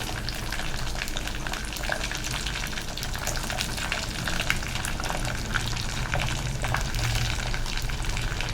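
Steady, busy crackling and sizzling of seasoning frying in hot oil in a clay pot for fish curry, close and continuous, with dense popping throughout and no voices.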